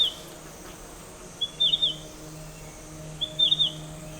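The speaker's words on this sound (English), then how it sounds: "Along the forest trail, we spot a gray-cheeked warbler." Gray-cheeked warbler in a forest, giving two short high, thin twittering calls about two seconds apart over a faint, quiet background hum of insects.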